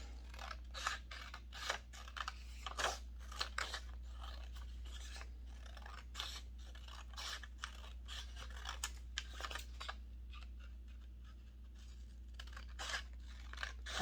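Quiet, repeated snips and rustles of scissors cutting paper at an uneven rhythm, over a low steady hum.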